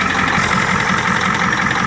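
A 1989 Ford F-350 pickup's 7.3L IDI diesel engine idles steadily at close range, a loud, even mechanical clatter with a low rumbling pulse and no voices.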